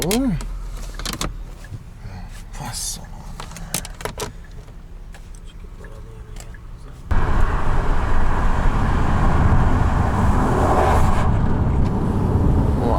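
Inside an executive car fitted with window curtains: an electric window whirs and keys jingle at first, then a loud steady rumble of engine and road noise takes over as it drives, with voices talking.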